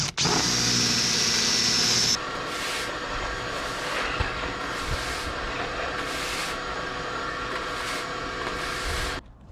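Power drill boring into a wooden boat hull during a haul-out restoration, a loud steady whine for about two seconds, then lower motor running with short pulses until it cuts off near the end.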